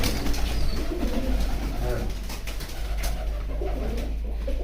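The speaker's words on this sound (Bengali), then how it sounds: "আমরা কবুতরগুলো আস্তে আস্তে ছেড়ে দিচ্ছি আর কি।" Racing pigeons released by hand at a Rajshahi pigeon loft, cooing and fluttering softly at close range over a steady low rumble, with people talking nearby.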